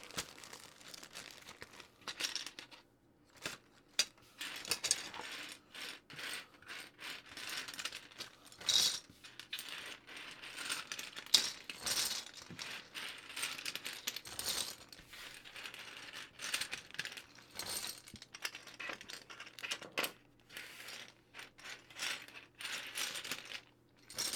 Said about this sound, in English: Let's take these keycaps off and let's look at this board.